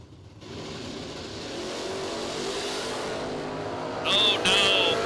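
Two 1968 Chevrolet Camaro drag race cars accelerate hard off the line in a loud, sustained engine roar, with a brief higher-pitched rise near the end.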